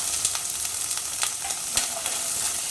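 Chopped snake gourd sautés in coconut oil in a pan, giving a steady close sizzle with a few sharper crackles and stirring scrapes throughout.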